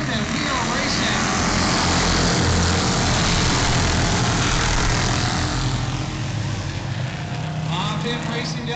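Race cars at the Sauble track roaring under the green flag, a dense, loud continuous engine drone filling the clip, with a race announcer talking over it.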